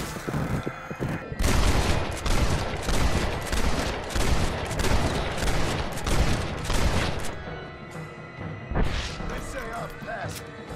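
Guns firing at zombies in a zombie video game: rapid volleys of close, loud gunshots in a dense burst-fire rhythm, with a narrator's voice talking throughout.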